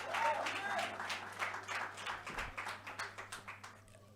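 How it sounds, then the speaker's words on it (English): Audience applause at a Daveyton pitch competition event, a dense burst of clapping from a crowd that gradually thins into softer, more separated claps toward the end, with a low steady hum underneath. "Can we give them a round of applause?"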